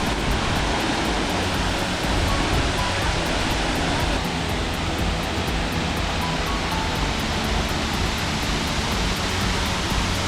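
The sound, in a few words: Tad Gneuang or Tad Champee waterfall near Pakse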